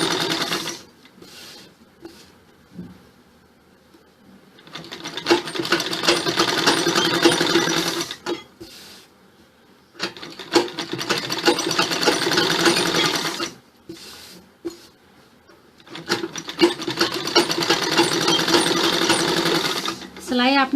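A sewing machine runs a line of stitching along the edge of a choli where it joins the flared skirt of an umbrella-style frock suit, in three long steady whirring bursts separated by short pauses.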